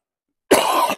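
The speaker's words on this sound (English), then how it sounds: "Have this cough going around." A single harsh cough bursts out close and loud after a brief silence, rough and throaty, with no talking around it.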